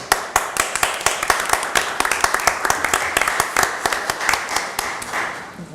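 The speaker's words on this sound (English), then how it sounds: "He's looking around like, are they clapping for me?" Sparse, uneven hand claps from a small group at a Boynton Beach CRA board meeting, crisp individual slaps rather than a dense ovation, with a murmur of voices in the background.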